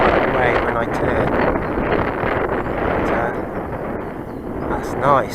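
Wind buffets the microphone at an RC glider launch field, a steady rough rush with gusts rising and falling, while someone talks over it.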